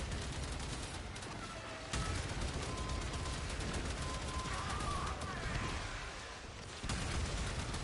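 Sustained automatic gunfire in the Warframe video game, dense and continuous for the whole stretch with heavy rapid bursts, loud and close, no voices over it.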